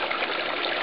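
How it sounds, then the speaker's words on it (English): Water drains from an aquaponics bell siphon in a constant, close, loud rushing gush with no pauses. "bell siphon just emptied, and you can see the water coming out"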